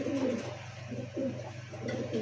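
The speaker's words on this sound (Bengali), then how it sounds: "আর এটা যে আপনার ইয়া খাকি গলা ইয়া খয়রা গলা কবুতর" Khoyra gola (brown-necked) pigeons at a pigeon sale coo close by in a series of soft, low, throaty bursts that repeat every half second or so over a faint background hum.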